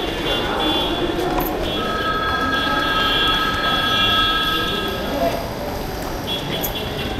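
An LTT–Madgaon Express train pulls into Kankavli railway station, with a steady, loud rolling rumble and thin sustained wheel squeals throughout.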